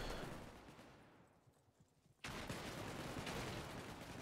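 Shotgun fire in the game Wormhole Wars. A burst of blasts and clatter fades into a quieter lull, then a loud sudden report cuts in and a dense, sustained barrage of gunfire follows to the end.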